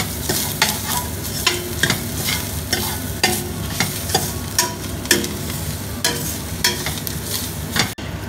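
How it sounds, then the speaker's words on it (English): Grated coconut and a few shallots fry in a pan with a steady sizzle, broken by regular scraping stirs about every half second, close and without talk. "we have to fry it till the coconut turns into a brown color"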